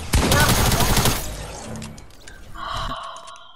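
Rapid machine gun fire in a video game bursts loud and dense for about a second, then trails off into scattered clatter and a higher ringing tone.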